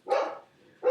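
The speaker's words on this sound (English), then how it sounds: "And there's the dog again." A dog barks twice, close and fairly loud, with a short gap between the two barks.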